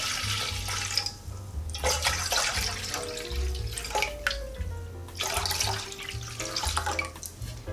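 Rice-washing water, about 1.2 litres, poured into a pot for a Korean napa cabbage doenjang soup, giving a steady splashing and gurgling stream that runs on without pause, close and moderately loud.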